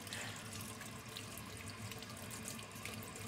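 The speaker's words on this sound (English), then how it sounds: "So we're gonna wash this very, very well. Warm water, good rinsing." Hot tap water runs steadily into a kitchen sink while a jaw harp is rinsed, a continuous close splashing hiss with no voices.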